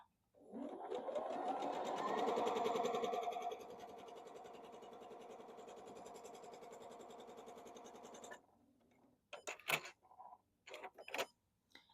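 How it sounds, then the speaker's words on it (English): A sewing machine stitches a nine-patch quilt block in a steady, rhythmic mechanical whir that runs for about eight seconds and then stops, followed by a few soft handling clicks and rustles. "So let's just get that sewn, and we'll trim this little piece up that I didn't quite get trimmed right."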